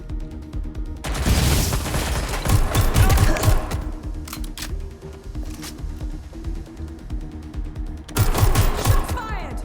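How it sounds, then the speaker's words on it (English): Gunfire from the video game Watch Dogs: Legion comes in loud rapid bursts of automatic shots with booming impacts, a long volley followed by a quieter stretch and another burst, with game voices heard faintly underneath. "Shots fired."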